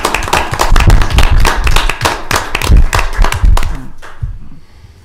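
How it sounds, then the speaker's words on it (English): A county board of commissioners meeting room applauds its engineers, loud close hand claps from a modest group, ragged and punchy for about four seconds before tapering off. "I think the engineers deserve a round of applause."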